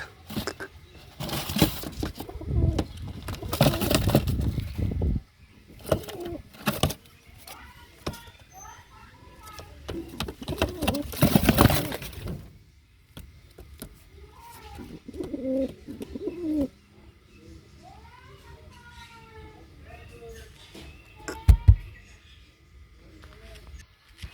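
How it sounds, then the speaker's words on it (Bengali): Soft pigeon coos repeat nearby inside a pigeon house amid rustling, fluttering and handling noises, with occasional voices talking in the background. "পায়রার ডাক"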